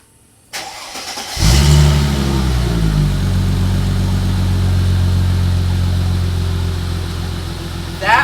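A supercharged Mercedes SLK320 fitted with a new exhaust and intake cranks and fires up, then settles into a steady, smooth idle close by, with a brief blip near the end.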